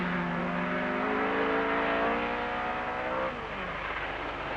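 Henri Toivonen's front-engined, rear-drive rally car corners on the 1981 Esgair Dafydd Rallysprint hill climb, its engine roaring loud and close with shifting revs through the bend before the note drops away.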